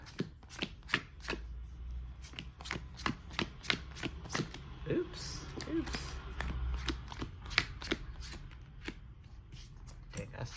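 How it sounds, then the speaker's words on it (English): Playing cards riffle and snap in a steady, rapid series of sharp clicks over about ten seconds, close by, with faint talk underneath. "We'll give it a power shuffle too."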